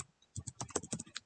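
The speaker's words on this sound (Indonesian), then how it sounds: "Caranya ialah tinggal ketik localhost" Someone types localhost on a computer keyboard for a WordPress install: about a dozen quick, crisp keystrokes close by, in an uneven burst, with no talking.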